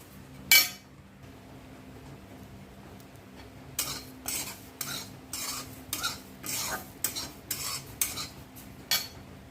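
A single clink, then rhythmic scraping as a spoon stirs coconut roasting in a pan, roughly ten strokes at a steady pace with faint sizzling.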